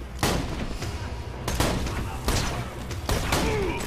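Shotgun blasts from Borderlands 2, four loud booming shots spaced roughly a second to a second and a half apart, each with a sharp broadband crack and a short ringing tail over a steady game-ambience rumble.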